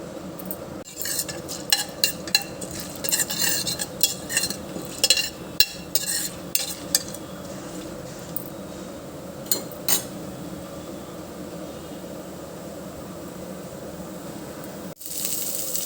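Urad dal and spices fry in a pan while a utensil stirs them, scraping and clinking against the metal in quick irregular taps over a soft steady sizzle.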